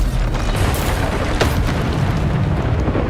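Bombardo spell explosions in Hogwarts Legacy, a dense continuous roar of booming blasts with a few sharper cracks poking out, loud and unbroken throughout.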